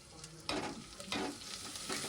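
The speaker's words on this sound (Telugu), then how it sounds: "ఆయిల్ వేసుకొని అందులో ఉల్లిపాయ ముక్కలు, కరివేపాకు, ఆవాలు వేసింది." Onion pieces, curry leaves and mustard seeds tempering in hot oil for a ridge gourd pulusu. A quiet, steady sizzle is broken by three scraping stirs at regular intervals, with no voices.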